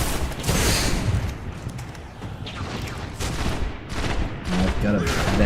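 Enemies fire from a distance in Destiny, a dense, continuous barrage of gunfire crackling and booming in rapid bursts with no pauses, loud and close in the mix.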